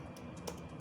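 Computer keyboard keys tapped while writing a factorial program using recursion, several quiet clicks in quick succession with one slightly sharper keystroke near the middle, no voices.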